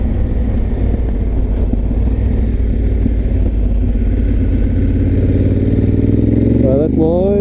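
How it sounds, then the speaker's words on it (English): A Honda Africa Twin motorcycle engine drones steadily and loudly while being ridden, with a constant rumble and wind noise that rises slightly in pitch near the end as the bike accelerates. "So that's my short ride 2 video of me riding my Africa Twin to the shops."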